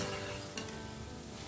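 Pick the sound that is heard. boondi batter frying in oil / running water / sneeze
boondi batter frying in oil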